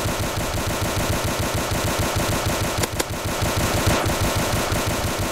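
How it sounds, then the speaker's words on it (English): Rapid automatic gunfire from the Fortnite video game rattles in a dense, continuous stream of evenly spaced shots, with one sharper burst near the middle, loud and uninterrupted by talk. "As you can see, there's some high class gunplay here."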